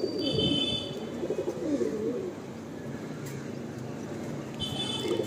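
Close, throaty cooing from a male pigeon in a loft comes in two bursts, a strong rolling phrase at the start and another at the end, with a quieter stretch between.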